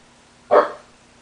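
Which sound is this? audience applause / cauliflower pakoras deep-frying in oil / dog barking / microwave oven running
dog barking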